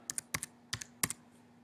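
Light keystrokes as a password is typed on a computer keyboard: about six quick, quiet taps in small irregular clusters over a faint steady hum.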